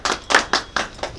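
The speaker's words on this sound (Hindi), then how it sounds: "जोरदार ताली एक बार कल्याणी मैम के लिए" Claps sound at a New Year event, five loud, separate hand claps in an uneven rhythm, close by and with no voices over them.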